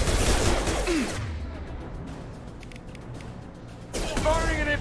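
Rapid gunfire in the sci-fi shooter Mass Effect 2 as Blue Suns mercenaries and Vorcha open fire: dense bursts of loud shots at the start and end, with quieter rumble and voices talking in between.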